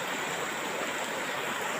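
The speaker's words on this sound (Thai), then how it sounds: "นี่ก็จะเป็น เหมือนน้ำตกครับ" A small waterfall at Nam Dang beach in Pong district, Phayao, Thailand, gives off a steady, close rush of falling water. The brief stretch has no talk.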